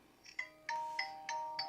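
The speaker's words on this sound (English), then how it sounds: "here you can change your ringtone sound by tapping on phone ringtone and just testing out some of the options here" A mobile phone plays a short trial ringtone: a quick series of bright, bell-like electronic chimes with ringing tones, faint and close, with no talking.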